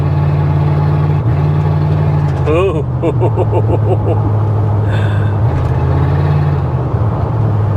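A Ford F150 pickup engine runs steadily with a deep, even idle hum throughout, while people talk over it and someone exclaims briefly.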